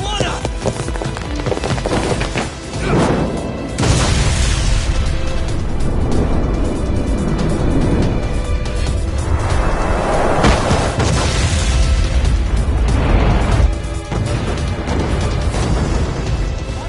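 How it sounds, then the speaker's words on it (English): A ship explodes in the video game Lost Judgment as a loud, dense rumbling roar with heavy booming bursts that fills the whole stretch, mixed with game effects and busy noise. "The ship just exploded!"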